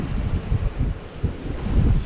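Wind gusts across a sailboat at sea near the coast, buffeting the microphone in low, uneven rumbling bursts with a faint watery wash beneath.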